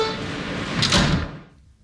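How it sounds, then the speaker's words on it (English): Subway train doors slide shut with a broad rush and a thump, moderately loud, then give way to quiet. "Stand clear of the closing doors"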